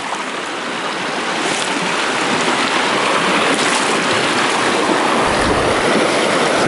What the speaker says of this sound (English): That is a strong ass current